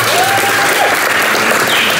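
Dense audience clapping at a keynote at Hall of Flowers, a loud continuous burst of many hands applauding close by with a faint voice over the top.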